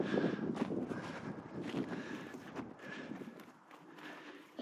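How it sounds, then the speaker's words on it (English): Gusty wind buffets the microphone in an open desert parking lot at a slot canyon trailhead near Kanab, Utah, a faint, uneven rushing that swells and fades over a few seconds. "And the wind's gonna blow."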